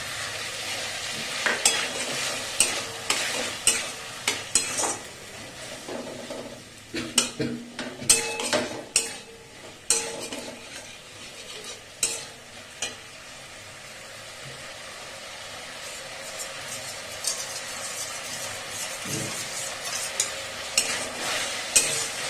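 A Chinese-style dish with sauce is stirred and fried in a pan, with a utensil scraping and clattering against the pan in irregular bursts over a soft, continuous sizzle.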